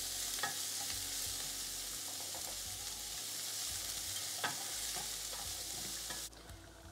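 Leeks sizzling and frying in a pan for a coconut red lentil dal, stirred now and then with soft scraping knocks over a steady, continuous hiss; no talking.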